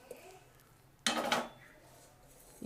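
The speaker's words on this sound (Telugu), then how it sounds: "ముందుగా ఇలా ఒక కుక్కర్ తీసుకోండి" A metal pressure cooker is picked up and set down in a kitchen, one short clattering clank of metal near the middle, otherwise quiet room tone.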